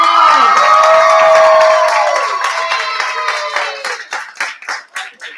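A crowd cheers and claps loudly, the noise tapering off into a few scattered claps at the end.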